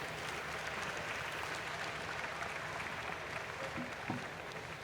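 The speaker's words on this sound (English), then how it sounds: "Can we give all our speakers a round of applause," A seated audience at a legal forum on delays in the administration of justice gives its speakers a round of applause. The clapping is faint and distant, a soft continuous patter with no talk over it.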